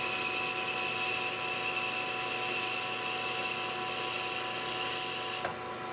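Machine tool cutting Delrin plastic, a steady high-pitched whine with a smooth cutting hiss that runs evenly before dropping away near the end.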